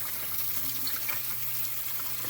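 Hot tap water runs steadily while a K&N air filter is rinsed, a constant close splashing flow with no talk.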